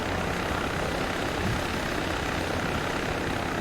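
A Little Bird helicopter in the ARMA 3 military game drones steadily throughout, a dense continuous rotor and engine roar with no breaks or voices.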